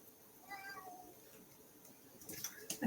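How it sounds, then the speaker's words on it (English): A cat meowing insistently to be let inside, calls faint and intermittent against a quiet room, with a louder cry near the end. "I have a kitty that wants in really badly, and he's making his voice heard."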